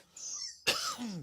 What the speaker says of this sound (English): and I keep coughing